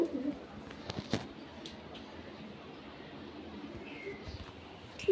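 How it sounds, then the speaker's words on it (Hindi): A pet pigeon coos softly a few times near the start against a faint, steady background hum, then the sound stays quiet apart from small ticks and rustles. "आप देखिए, ये मेरा प्यारा कबूतर"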